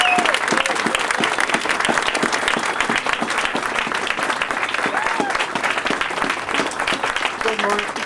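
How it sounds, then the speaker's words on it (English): A crowd at a rally against Oregon coal exports applauds to welcome Director Abrams, with continuous, dense clapping and a few faint whoops over the top. "So I would like to give a big welcoming applause to Director Abrams,"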